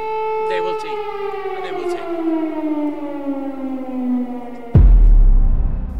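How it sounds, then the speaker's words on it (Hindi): An air raid siren wails over Kyiv in a long, steady tone that slowly falls in pitch, then a sudden loud low rumble cuts in near the end. "कीव में बजा सायरन"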